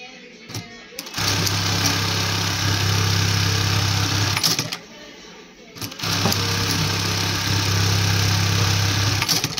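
A JACK JK-T1790GS buttonhole sewing machine runs slowly with its speed locked, a steady mechanical drone in two long stretches separated by a brief pause, with no talk over it.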